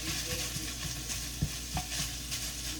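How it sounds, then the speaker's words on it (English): Sausage browns in a hot pan for breakfast gravy, a steady sizzle and crackle broken by a few soft scrapes and knocks of a stirring utensil, with no talking. "let's just get this sausage browned up here"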